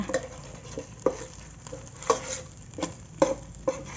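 Thai curry paste stir-fries in oil in a pot, with a faint sizzle under a series of distinct scraping and tapping strokes of a spatula at an uneven rhythm, close by and without talk.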